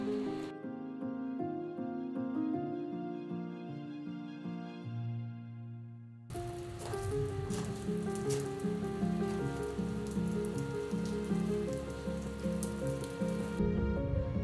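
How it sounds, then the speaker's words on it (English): Heavy rain pours down steadily through a thunderstorm on a foggy road in Bosnia and Herzegovina, a dense continuous hiss that swells louder midway, with a layer of sustained musical tones running throughout. "It's raining super hard, thunder and lightning."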